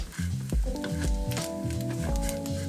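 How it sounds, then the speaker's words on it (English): Bacon bits fry in a teaspoon of olive oil in a pan over medium-low heat, giving a steady close sizzle and crackle with some tonal humming underneath. "Heat a teaspoon of olive oil in the pan. and fry them off a medium-low heat or so till they get crispy."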